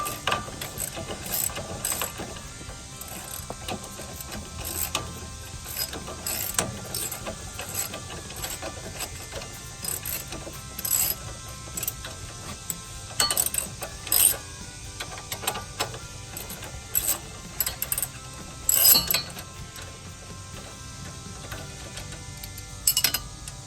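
A socket wrench ratchets in bursts of quick clicks while removing a strut from a 2013 Kia Sorento EX, faint and intermittent against a quiet workshop background.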